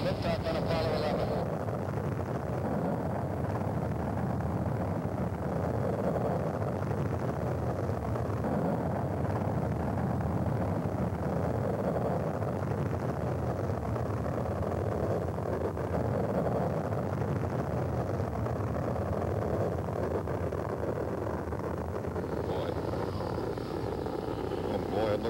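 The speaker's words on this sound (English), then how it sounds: "All engine running. Liftoff. We have a liftoff." Apollo 11 rocket liftoff: a continuous deep, roaring engine rumble fills the whole stretch at steady loudness, with a broadcast voice talking over it.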